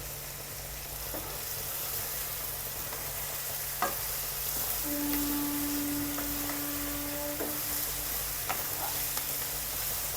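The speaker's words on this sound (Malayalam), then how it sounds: "ഒന്ന് വഴറ്റിയെടുക്കട്ടെ" Biriyani ingredients sautéing in a pan, giving a continuous sizzling frying hiss with occasional scrapes and clinks of a stirring utensil, over a steady background hum.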